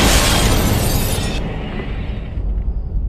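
Glass in a house window shatters at night, a loud crashing burst with bright splintering that cuts off after about a second and a half, leaving a lower rumbling tail.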